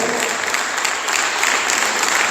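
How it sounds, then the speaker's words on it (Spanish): A church congregation claps loudly and continuously, a dense wash of applause from many hands that holds steady for a couple of seconds with no voices on top. "Dale un fuerte aplauso al Señor."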